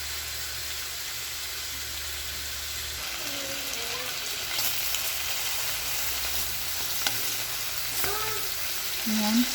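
Boiled chicken pieces fry in oil, making a steady broadband sizzle throughout with faint stirring scrapes and a few light clinks near the end; no speech.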